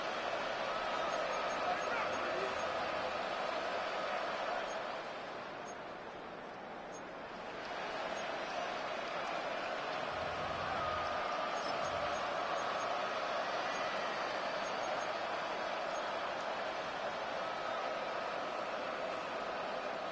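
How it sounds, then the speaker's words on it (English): A stadium crowd in the Madden 26 football video game roars steadily at a third-and-long, a dense, continuous wash of noise that dips briefly and then swells again. "This crowd turning up the decibel level."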